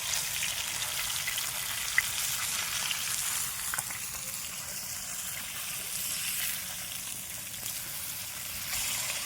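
Fish fry in hot oil with a steady, close, even sizzle and faint crackles throughout, and no talking.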